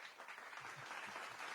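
Applause played as a sound effect, a short burst of dense clapping, fairly faint and even, with no voices.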